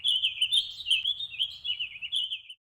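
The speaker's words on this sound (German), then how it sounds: "wie zum Beispiel das Zwitschern von Vögeln" High, bright bird chirps and tweets run continuously for a couple of seconds, clear and alone with no talk, then stop abruptly.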